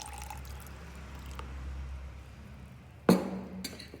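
Filtered water is poured into a homemade sourdough starter (levain) on its fourth day. A soft trickle is followed by a sharp splash and a brief clink near the end, heard close and alone.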